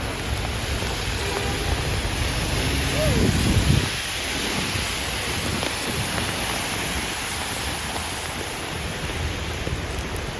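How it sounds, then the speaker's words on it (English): Steady rain pours down on Manhattan city streets in a dense, hissing wash, with a brief louder swell of splashing early on. "just enjoying the sounds of rain"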